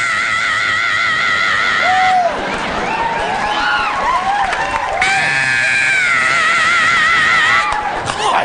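A stand-up comedian imitating a singer's heavy metal scream: long, loud, high wailing shrieks that rise and bend, with a brief shouted break partway through and a live audience reacting underneath.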